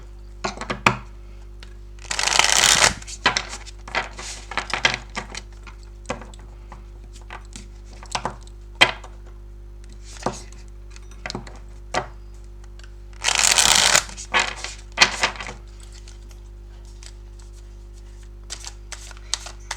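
Tarot-style cards shuffled by hand for a card reading: two loud riffling bursts a few seconds each, separated by scattered crisp taps, flicks and card-handling clicks, close up with no talk.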